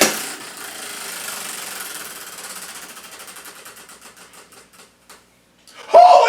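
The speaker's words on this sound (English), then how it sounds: "Time to spin the wheel of Wayne." A spinning prize wheel clicks rapidly at first, the ticks spreading out and slowing until it stops, followed by a sudden loud exclaiming voice at the end.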